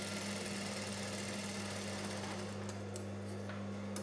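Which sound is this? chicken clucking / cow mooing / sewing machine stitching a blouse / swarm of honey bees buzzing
sewing machine stitching a blouse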